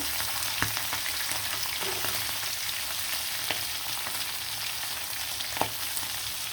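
Hilsa fish fry in hot oil with a steady, even sizzle throughout, broken by a few sharp pops and spatters, close and fairly loud with no voices.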